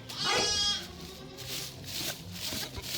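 A newborn Boer-type meat goat kid bleats once, loud and close, then softer, quavering cries follow as rustling and brief human sounds carry on nearby.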